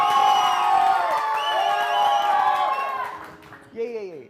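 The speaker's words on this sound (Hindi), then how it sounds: "ये जो सीटी बजा रहे थे, सीटी जो बजा रहे थे" A studio audience at a morning TV show cheers and whoops loudly, with a crowd of voices shouting together and shrill whistle-like tones sweeping up and down before fading.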